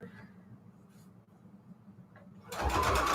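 A sewing machine stitches ruffle trim, starting with a quiet room hum and then bursting into a loud, fast whirring run of stitching in the final second.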